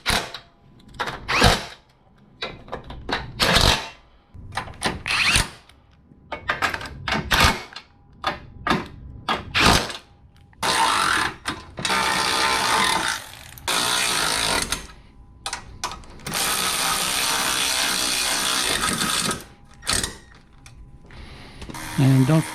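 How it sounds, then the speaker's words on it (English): Ratchet tightening 13 mm screws on a Forge front-mount intercooler for an R56 MINI Cooper S, bursts of rapid clicking with pauses between, close and fairly loud, some brief talk in the gaps. "And then I'll tighten up all the 13 mil screws."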